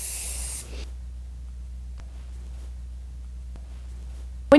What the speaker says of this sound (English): I'm going to add just a little bit of hairspray